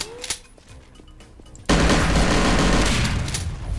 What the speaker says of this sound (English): Wow, I just unloaded a whole clip into his brain.